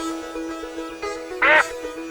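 A cartoon duck in a fairy-tale story lets out one short, loud quack above a quiet music bed, with no speech.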